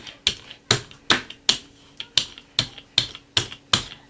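An ink roller is rolled and lifted over an ink pad for card making, producing about ten crisp, tacky clicks in an even rhythm, close and clear with no talking.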